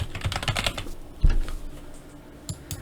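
Someone types on a computer keyboard: a quick flurry of close key clicks, then a single louder tap, a pause and a few scattered keystrokes, with no talking.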